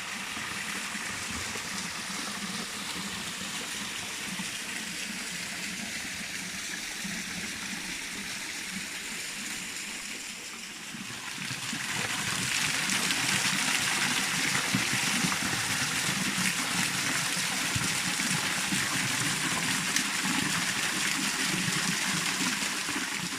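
Anne's Falls, a pristine waterfall near Christchurch, New Zealand, pours as a steady broadband rush of water that grows louder partway through, continuous and close, with no voices.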